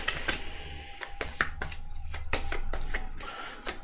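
A small deck of four cards is shuffled by hand: soft, quick papery riffles and taps in irregular bursts, close and quiet, with no speech.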